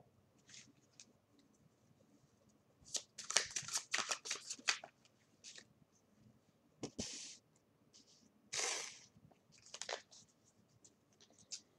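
Tarot card decks handled and shuffled on a table, with bursts of riffling and sliding cards, soft thumps and scratchy rustling that come and go, close and fairly loud.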